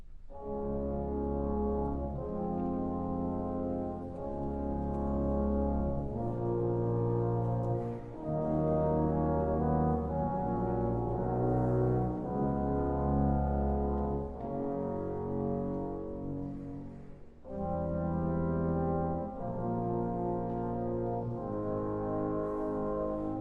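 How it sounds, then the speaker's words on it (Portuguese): Soft sustained brass section, horns and low brass holding long harmonious chords at pianissimo, phrases changing every few seconds with a brief dip near the end, no voices. "Ouça agora a família dos metais tocando também em pianissimo."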